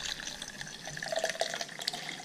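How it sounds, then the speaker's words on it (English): Hot water poured into a mug, a short close trickling stream with light bubbling and splashes. "I have here hot water. And let's pour some hot water inside."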